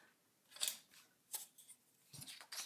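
Scissors fussy-cut postcard images from paper, a handful of crisp close snips spaced irregularly over a quiet background.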